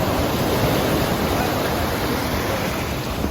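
Surf breaks at a beach in El Salvador as a loud, continuous wash of ocean waves with steady broadband roar and no speech.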